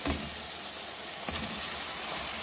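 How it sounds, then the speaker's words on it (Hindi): Boiled turnips going into a pan of frying masala, a steady, fairly loud sizzle and hiss with faint stirring and clinks throughout. "अब मैं इसके अंदर हमारे बॉईल हुए हुए शलजम ऐड कर रही हूँ"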